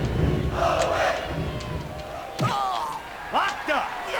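A roaring crowd in the WWF Attitude wrestling game on Sega Dreamcast cheers and yells loudly, with commentators talking over it and a couple of sharp slams in the ring.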